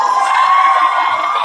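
A party crowd aboard a cruise ship at an 80's party screams and cheers, a dense, steady wall of high-pitched shrieks and whoops that holds loud throughout.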